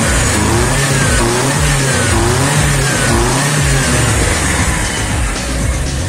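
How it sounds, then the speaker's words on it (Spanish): Chevrolet Monza engine revving after conversion to electronic fuel injection, running loud and close with repeated rising and falling throttle blips over a steady mechanical drone. "primera vez de encendido luego de su inyección electrónica. Ya está prendido, acelera bien."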